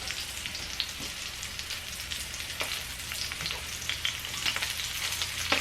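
A gentle, steady sizzle of butter crackles continuously from a frying pan with sweetbreads, soft popping and spitting at close range with no talking.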